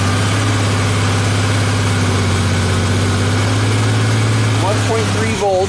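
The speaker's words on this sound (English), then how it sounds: "All right, bike is running." A motorcycle engine idles steadily at close range with a deep, even rumble throughout, cutting out near the end.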